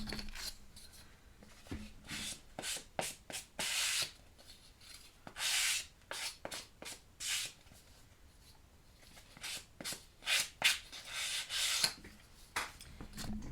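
Dry rasping strokes of sandpaper rubbing against paper edges, coming in irregular bursts with short pauses between them, close and fairly quiet.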